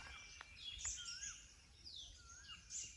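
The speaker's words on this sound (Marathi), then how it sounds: "नुसतं पक्ष्यांचा आवाज घ्या बघा." Birds sing faintly in a forest near mango trees, several short chirps and rising whistled calls scattered over quiet background hiss.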